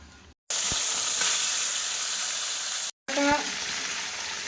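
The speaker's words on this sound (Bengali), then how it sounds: "এদিকে মাছ ভাজাটা বসিয়ে দিয়েছি" Fish fries in a pan with a loud, steady sizzle and crackle, broken by two brief silent gaps.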